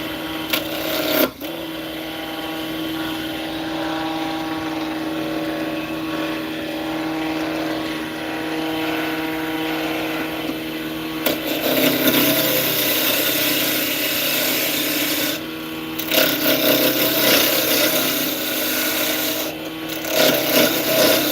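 A wood lathe spinning up for pen turning gives a steady whirring motor hum, joined later by louder rasping bursts as the cutting tool bites the spinning wood.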